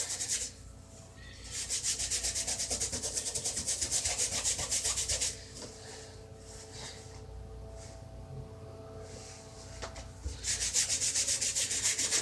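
A surface is scrubbed with borax in long, steady abrasive strokes, close and fairly loud, with brief pauses and changes in pace.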